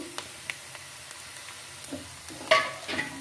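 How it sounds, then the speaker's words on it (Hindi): Chopped green chillies drop into a hot frying pan for potato snacks, giving a sudden sizzling burst near the end after faint scattered scraping and stirring taps. "अब इसमें हम ये हरी मिर्चें कटी हुई डाल लेंगे"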